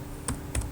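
A few quick taps on a computer keyboard, two or three light keystrokes in a quiet room.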